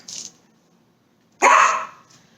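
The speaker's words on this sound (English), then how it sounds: "Sorry, my dog is barking and he does not know how to stop sometimes." A dog barks twice, a short yip then a louder, fuller bark a second later, close by indoors with no talking over it.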